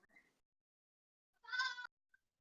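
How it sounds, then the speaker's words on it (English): A cat gives a short meow near the middle, brief and faint, with a small sound just before it and silence around it. "That was a cat."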